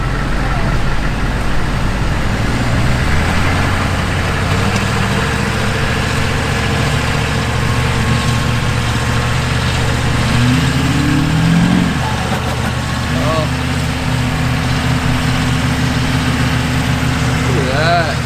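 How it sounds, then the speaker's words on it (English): A Humvee engine idles with a steady low rumble while it pulls a vehicle out of sand, with people talking over the constant drone from start to end. "At least it's a badass Humvee pulling you out"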